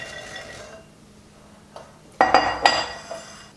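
Pecan halves are tipped into a bowl of frothy mixture for candied pecans, giving a quick burst of bright clinks and rattles against the bowl after a quiet start, with no talking.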